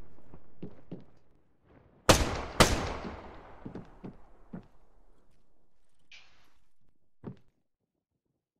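Gunfire in Arma 3: two loud close shots followed by scattered fainter reports and thuds, separated by near silence.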